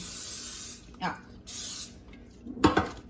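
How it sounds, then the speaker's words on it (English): Coconut oil non-stick cooking spray hisses onto a pan in three short bursts, the first two close together and the last slightly longer, with a light clank of cookware near the end. "It's a coconut oil non-stick cooking spray."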